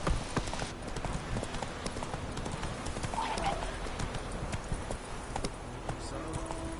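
Rapid hoofbeats of a horse galloping in The Witcher 3 on PS4, a fast continuous clip-clop under in-game speech and ambient sound.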